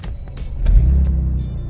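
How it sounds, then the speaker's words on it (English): A Mercedes with a freshly replaced battery cranks on its starter motor and fires up: quick clicks and a fast whirring crank lead into a low, loud engine rumble close by. "when I start the car, she's definitely stronger. The speed at which that starter motor turns, we'll have a listen"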